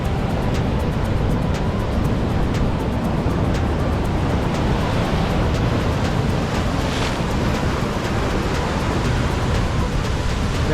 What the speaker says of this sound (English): Waves are quite big